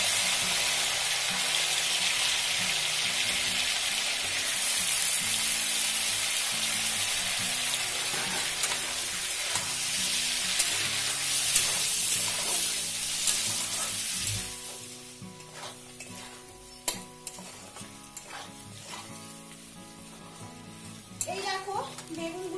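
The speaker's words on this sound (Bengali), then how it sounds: "দেখো আলু বেগুন গুলোকে ভাজবো।" Chunks of potato and eggplant fry in hot oil, a loud continuous sizzle with stirring and scraping; the sizzle drops away about two-thirds through, leaving clinks and light clatter.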